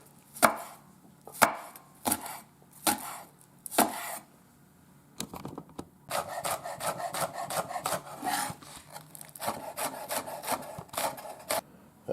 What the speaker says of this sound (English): Here's my scallions, y'all. I'm going to cut them finer.